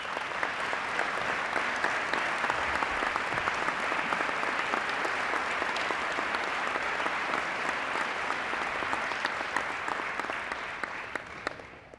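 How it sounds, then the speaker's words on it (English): Sustained applause from a large audience at a city's State of the City address, dense and steady for about twelve seconds before tapering slightly at the end. "we could give them a round of applause"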